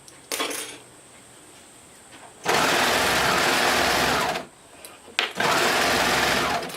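An overlocker sewing stretchy swimsuit fabric around a neckline whirs in two loud sustained runs, each about two seconds, separated by quieter pauses with light clicks and handling noise.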